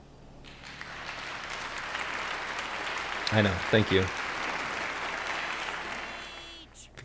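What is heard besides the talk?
clapping in an online community meeting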